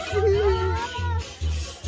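A cat meows in drawn-out rising and falling calls near the start, over a low rhythmic thumping background, with human voices mixed in.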